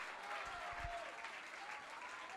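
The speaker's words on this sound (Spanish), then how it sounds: "dale un aplauso fuerte a Dios en esta hora" Applause from the audience at a women's church congress, a steady wash of clapping from a large crowd at moderate level, lasting throughout with no clear talk on top.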